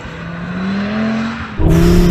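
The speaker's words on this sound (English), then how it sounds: "when you stamp on the throttle, that rear differential does its job and really starts to drive the rear axle round" An Audi RS3 accelerates hard at full throttle, its engine note droning steadily and then surging louder and higher near the end as revs climb, close and alone with no talk.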